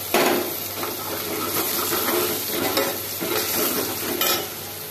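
Spices tipped onto browned onions frying in a pan for a white pea usal, followed by a busy, close sizzle with rhythmic scraping stirs and a few soft utensil clinks, no one speaking.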